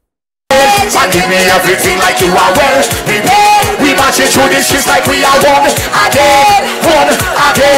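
After a brief silence, a loud concert crowd at a soca performance cheers, yells and whoops, blended with music and singing voices, holding steady and full to the end.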